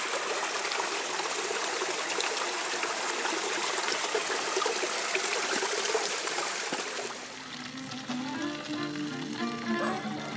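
Water runs steadily from a village spring, a loud, continuous splashing rush that eases and drops somewhat softer near the end.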